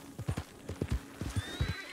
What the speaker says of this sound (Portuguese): Olha os cavalos.